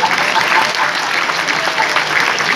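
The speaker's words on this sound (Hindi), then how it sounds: "एक एक श्रोता की ताली मिलनी चाहिए इस पे" Audience at a Hindi kavi sammelan poetry gathering clapping loudly and steadily, a dense sustained wash of applause from a large crowd with no pauses.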